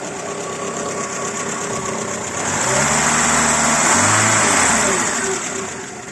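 A cold Renault Twingo 1 running on ethanol idles roughly, then its engine revs up in two swells of rising pitch before settling, loud and close with a slightly knocking edge.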